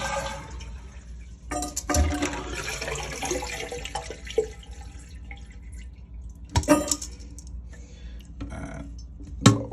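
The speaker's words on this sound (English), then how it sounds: "Flush the toilet." A Glacier Bay toilet flushes indoors: a sudden rush of water swirls and gurgles for several seconds, then settles into quieter trickling and refilling, with a few sharp clunks near the fixture and no talking.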